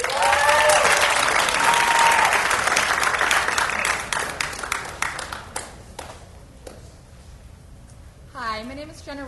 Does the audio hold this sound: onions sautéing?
no